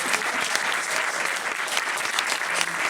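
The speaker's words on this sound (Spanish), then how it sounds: "Cerramos con un fuerte aplauso" Strong, dense applause from an audience closing a talk on the economic and political situation, a continuous, evenly sustained wall of clapping at close range.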